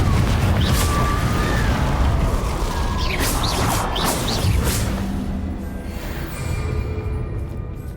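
A Confringo explosive spell blasts in Hogwarts Legacy with a loud, dense booming rumble and crackling debris that stays strong for several seconds before gradually fading.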